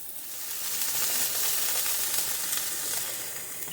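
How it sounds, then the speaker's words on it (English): Chopped onions and peppers sizzling in a frying pan for a pasta sauce, a steady, close, bright hiss of frying with no talking. "we want to cook these up until the onions get somewhat translucent"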